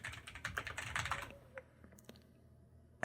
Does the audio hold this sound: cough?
no